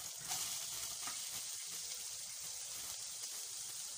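Ginger garlic paste fries in a pan for a chicken fry roll, a steady close sizzle and hiss with light stirring, no voices.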